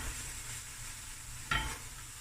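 Turmeric and masala spices stirred in a cooking pot for a Cape Malay crayfish curry, a soft faint scrape of spoon against pot with a quiet sizzle beneath and one brief sharper scrape near the end.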